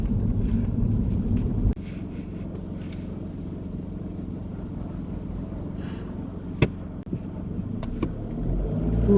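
Car engine rumbling steadily from inside the cabin during a driving test, a continuous low drone with a few faint clicks and brief knocks over it, no talk.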